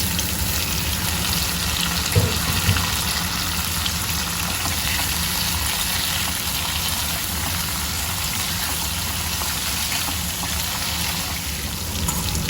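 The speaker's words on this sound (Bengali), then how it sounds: "এরপর সিদ্ধ করে রাখা সেই ডাটাগুলো আমি তেলের উপর দিয়ে দিচ্ছি" Boiled drumstick stems frying in hot mustard oil with cumin, giving a steady, even sizzling hiss throughout, close and continuous with no talking.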